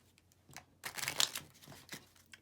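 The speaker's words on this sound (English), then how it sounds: "I'm going to give it a shuffle one more time." Playing cards being shuffled by hand during a card game, a brief riffle burst of crisp papery flicks, fairly close and moderately quiet, with soft handling rustles before and after.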